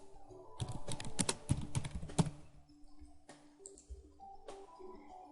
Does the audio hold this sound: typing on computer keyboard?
yes